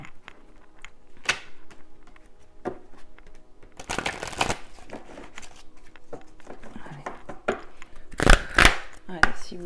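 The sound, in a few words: tarot cards being shuffled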